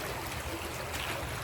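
Water flows steadily in a woodland stream near a beaver dam, a soft, even wash and trickle that stays faint and continuous with no voices.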